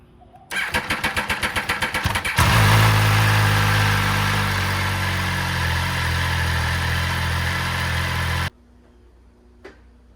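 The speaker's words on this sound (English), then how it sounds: "I'm gonna let the bike warm up, let the oil run for a bit" An MV Agusta Veloce 800 motorcycle cranks with a rapid rhythmic starter chatter, catches and settles into a loud, steady idle nearby for several seconds before cutting off abruptly, leaving quiet background.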